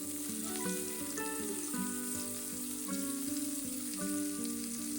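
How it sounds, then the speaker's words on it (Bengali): Halloumi cheese fries in a pan with a steady, close sizzle and scattered crackles, while faint tonal music plays underneath and nobody speaks. "এখানে ভাজছি কটা হালুমি চিজ"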